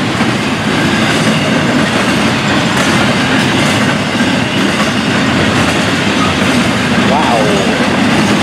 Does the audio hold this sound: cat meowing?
no